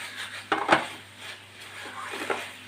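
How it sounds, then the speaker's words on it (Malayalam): Spoon clattering and scraping against a bowl while mixing a spiced potato mixture, a few sharp clinks close up followed by softer scraping strokes. "ഇതെല്ലാം കൂടെ നല്ലതായിട്ട് ഒന്ന് മിക്സ് ചെയ്യുക"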